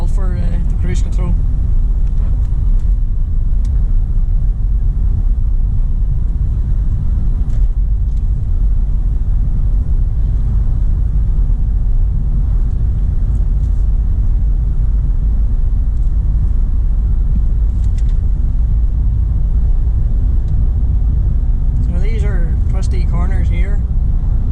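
A Renault Modus drives along a road with a steady, loud low engine and road rumble running throughout, under continuous talk from inside the car.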